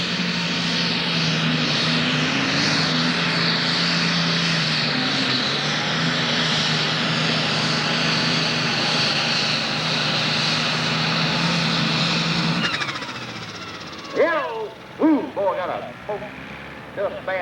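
A roaring tractor-pull engine, Larry Phillips's 686 Insanity in the 6,000 and 7,500 lb class at a 1995 Central City, Kentucky pull, runs loud and steady for about thirteen seconds, then cuts off as an excited announcer talks over crowd noise.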